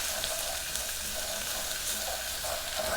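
Garam masala, cumin powder and tomato puree sizzle in hot oil over a high gas flame while an Indian restaurant-style chicken tikka biryani is cooked. The frying hiss is steady and close, running unbroken throughout.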